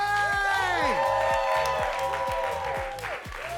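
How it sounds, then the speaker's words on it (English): Studio audience applauding a comedian taking the stage, a dense, steady wash of clapping and cheering that fills the clip under bright musical tones, fading slightly toward the end. "Please give a really big round of applause for Deven Bouchet!"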